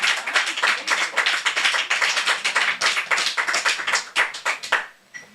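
Close, lively clapping from a small audience after a poetry reading, brisk and uneven for about five seconds before trailing off abruptly.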